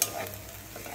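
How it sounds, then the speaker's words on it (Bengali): A spice masala for a ridge gourd dish being stirred and fried in a pan, a brief dense sizzle that opens with a sharp scrape. "এবার আবার ভালো করে কষাতে থাকব।"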